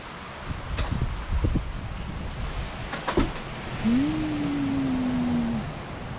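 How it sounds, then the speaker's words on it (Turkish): Steady wind roars and rustles around the microphone in a village, shaking down walnuts, with a few sharp knocks and a long low tonal hum partway through. "Öyle bir rüzgar var ki"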